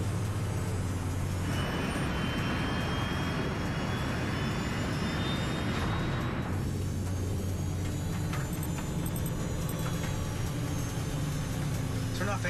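Airliner jet engines drone steadily while climbing toward 33,000 feet, a dense continuous roar that fills the cabin throughout with a slight shift in tone midway and voices over it.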